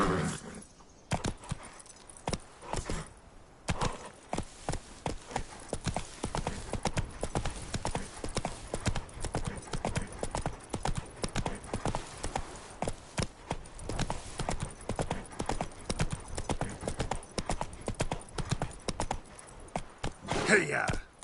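Galloping horse hooves in The Witcher 3 video game pound in a fast, steady clip-clop rhythm that runs continuously, close and prominent, with a brief voice urging the horse on.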